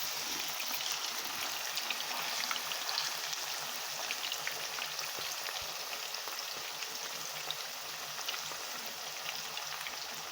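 Beef browning in a pot for Jamaican-style brown stew, giving a steady, fine crackling sizzle of moderate loudness that runs evenly throughout with no talking.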